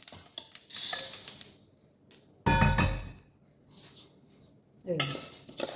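Sesame seeds dry-roasting in a pan, heard as a few bursts of clinking and scraping from a utensil against metal, separated by quieter gaps, close by.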